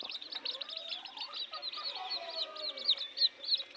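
Newly hatched red junglefowl (labuyo) chicks peep in a steady, overlapping chorus of high, thin chirps, close by and unbroken throughout, with no talking.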